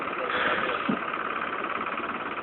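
A motorbike engine idles steadily during a potato harvest in the town of Ovacık in Niğde, giving a constant low rumble close by with muffled voices talking over it.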